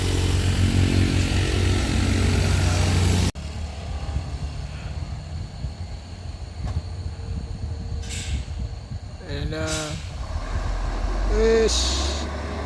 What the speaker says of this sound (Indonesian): truk Isuzu ELF yang kehabisan napas